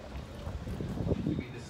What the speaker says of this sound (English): We're on a canal ride